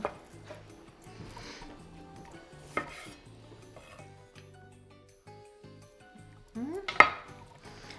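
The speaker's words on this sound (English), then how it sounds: "One last light and gentle stir, and the salad is ready." A spoon turns through an orzo pasta and corn salad in a bowl, making soft scraping and light clinks against the dish, with a sharper clatter near the end over a quiet tonal background.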